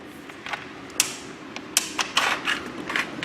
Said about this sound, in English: I'll just slide those out